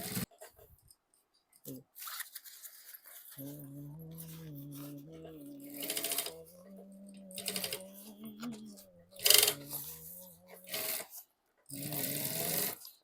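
A sewing machine stitching a fabric lunch bag runs in short stop-start bursts with a steady mechanical whir, close and moderately loud, pausing between runs.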